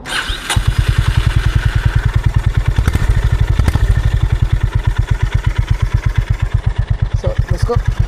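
A Honda CB350 motorcycle engine thumps in a steady, rapid low pulse throughout a ride toward a beach, loud and close with a slight rise in pace near the start and no talk over it.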